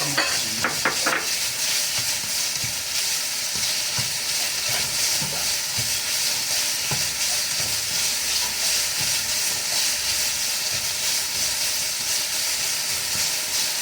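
Food sautéing in a hot pan, a loud steady sizzle and hiss running throughout, with a few clattering utensil strokes near the start.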